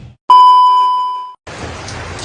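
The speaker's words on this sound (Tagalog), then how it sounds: "Lumakas na yung ulan." Heavy rain grows stronger in Tagudin, Ilocos Sur: a sustained electronic chime sounds alone, then after a brief pause a dense, steady roar of rain starts abruptly and fills the rest.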